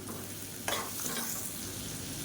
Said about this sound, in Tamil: இப்போ பாருங்கள் காலிஃப்ளவர் சேர்த்து நல்லா வதக்கியாச்சு